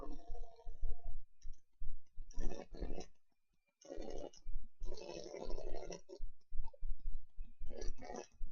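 Mouse clicks while modelling in 3ds Max: bursts of quick, sharp clicking come in several clusters with a short silent gap, close and moderately loud, with no voices.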